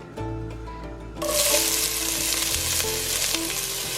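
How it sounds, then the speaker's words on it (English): Vegetables are sautéed in hot canola oil in a well-used Dutch oven. A quieter start gives way to a loud, close, steady sizzle and crackle that continues to the end. "I'm about to heat up some canola oil and saute the vegetables to start"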